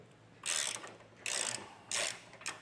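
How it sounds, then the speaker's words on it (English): A socket wrench ratcheting while removing impact bar nuts on a 2018 BMW, three or four short metallic clicking bursts, close and crisp with no talking. "then we'll grab our socket and wrench"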